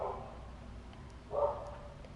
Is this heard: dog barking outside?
yes